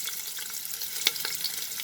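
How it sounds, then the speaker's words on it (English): Sliced onion hitting hot mustard oil in a pan for a black chickpea curry, giving a steady, close hiss and crackle with a few sharper pops and spatters. "First, I have heating 2 tablespoons of mustard oil, and now I will add the sliced onion."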